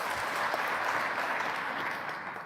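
A conference audience at a computer vision talk claps together in a dense, even burst of applause that fills the room for a couple of seconds and fades slightly at the end.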